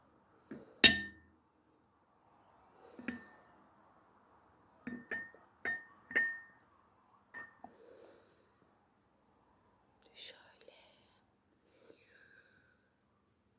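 A Turkish coffee cup lifted off its saucer and handled, giving sparse, close porcelain clinks and taps with soft breathy handling noise between them in a quiet room, no talking.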